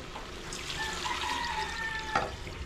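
Water poured into a pot of chicken soup makes a soft, continuous splashing trickle, faint and close, with a small clunk near the end.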